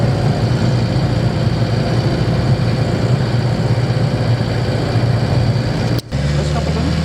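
A camper van engine, fresh from a timing belt replacement, idles with a smooth, steady hum and a low drone, close and constant for several seconds, cut short near the end by a brief knock.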